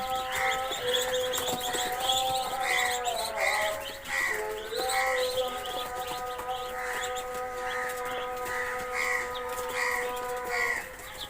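Fifteen-day-old Chinese ducklings on a duck farm in Assam chirp continuously, a dense chorus of high peeping calls close by with a steady tonal hum underneath.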